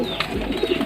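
A breeder pigeon in a loft gives a brief, soft, low coo, heard close and moderately quiet with faint background noise.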